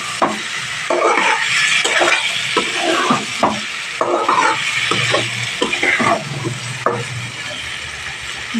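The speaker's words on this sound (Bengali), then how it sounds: "মশলার সাথে ভালোভাবে ফুলকপি আলুটা কষিয়ে নিতে হবে" Cauliflower and potato being sautéed with spices in a pan, a loud close sizzle broken by repeated rhythmic scrapes and knocks of a spatula stirring the vegetables.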